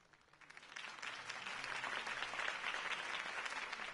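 Crowd applause rising after a campaign speech in Telltale's Batman video game, a sustained dense clapping that swells within the first second and holds steady and fairly loud throughout, with no speech over it.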